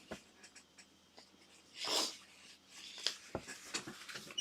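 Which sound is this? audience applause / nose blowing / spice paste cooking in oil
nose blowing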